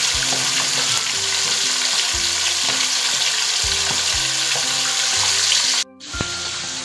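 Fish frying in a pan gives a steady, loud sizzle with no talk over it, and faint kitchen clatter sits underneath. Near the end the sizzle cuts out briefly and then comes back more softly.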